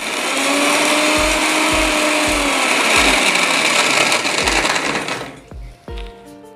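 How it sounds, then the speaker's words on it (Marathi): A mixer grinder whirs loudly up close as it grinds green chilies and garlic, a steady roaring motor with rhythmic knocking of pieces against the jar, then slowing and stopping with a few clunks near the end. "हिरवी मिरची, लसूण याचे आपण मिक्सरमध्ये बारीक करून घेणार आहोत"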